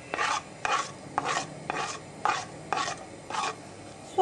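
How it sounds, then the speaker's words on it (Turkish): Chopped onions are sautéed in hot sunflower oil in a pan, heard as about eight faint, evenly spaced scraping stir strokes over a soft background. "Soğanlarımız gevşeyene kadar kavuracağız."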